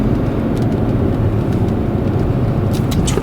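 Ventilation fan in a 2006 Bentley Flying Spur blows hard through the cabin vents, a loud, steady broadband whoosh with a few faint clicks, no talking.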